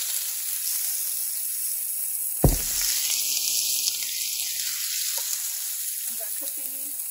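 Lamb chops for teriyaki fry in a hot pan with a steady, bright sizzle. A sharp knock or clatter comes near the middle, and the frying carries on without a break.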